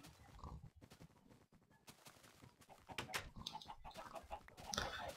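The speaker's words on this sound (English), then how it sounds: "I just captured all the chickens again, and hopefully they stay caught" Chickens cluck softly and intermittently nearby, a quiet scatter of short calls and rustling with brief pauses in between.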